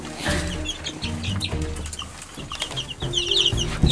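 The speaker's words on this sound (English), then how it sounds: "Oh, chicks! Yeah, chicks." Chicks peep in high, quick chirps amid clucking and scuffling nearby, a busy, close flock with shifting bursts of sound.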